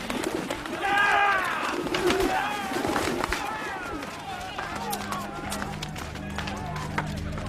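Pigeons call in a bustling temple marketplace scene, with chirping, cooing tones and wing flutters up close, set against shuffling movement and a dramatic staged voice.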